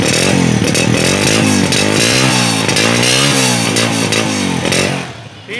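A restored 2004 Honda 125 down-model motorcycle runs loud and close, its engine rising and falling in repeated revs with a rough, buzzy exhaust note before easing off at the end.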